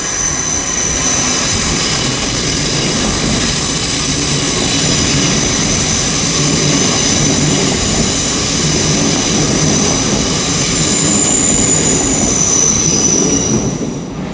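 An IET train departs London Paddington station, a loud, sustained roar of engines and rolling wheels with high squealing tones, continuous and close throughout, with no voices.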